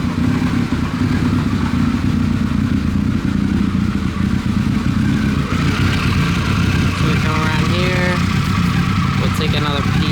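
A 2000 Honda CBR600 F4 motorcycle engine idles loudly and close with a steady rumble, and a voice speaks over it toward the end.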